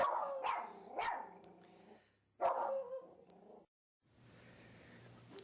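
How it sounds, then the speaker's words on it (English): A dog barks three quick times, then once more after a short pause. The barks are close and moderately loud, followed by a quieter rustling ambience. "Don't bark."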